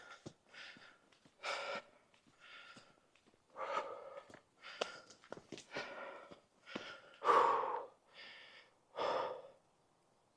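Heavy, rhythmic breaths from a hiker climbing uphill on a circular trail in the North Downs near Boxley, with repeated close gasps, snorts and sighs separated by brief pauses.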